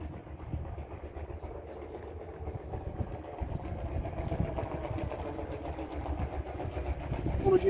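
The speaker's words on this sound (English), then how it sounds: "Apologies for the noise, that's a big tractor" A heavy engine rumbles and grows steadily louder as a big tractor approaches and passes close by, with a voice partly audible under the noise.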